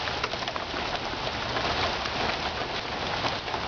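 Steady rain falls outdoors on branches and surfaces, a dense, even hiss of close droplets that continues without pause; a bird calls faintly in the background.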